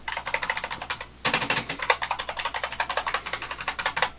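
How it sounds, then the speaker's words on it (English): Someone types quickly on an IBM Model M buckling spring keyboard, giving a rapid, close run of loud, crisp clacks with a short pause near the start. "IBM Model M buckling spring keyboard with that"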